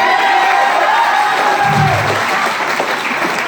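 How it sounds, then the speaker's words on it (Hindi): An audience at a motivational seminar in Deoghar breaks into loud, sustained applause and cheering, dense clapping filling the whole stretch with a few whoops rising over it. "जो लाइन आपको अटैच करती जाए उस पे जोरदार ताली और खड़े होकर स्टैंडिंग ओवेशन करना।"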